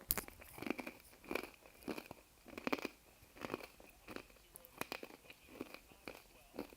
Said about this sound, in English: I shouldn't eat these because these are loud to chew.